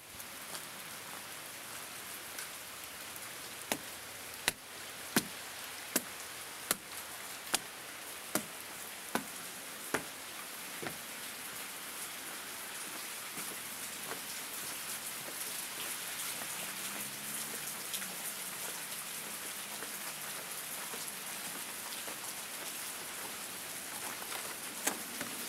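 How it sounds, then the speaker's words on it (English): Steady rain falling outdoors, a soft continuous hiss with scattered drips, and a run of sharp ticking taps early on, faint and even throughout with no talking. "You can hear it raining."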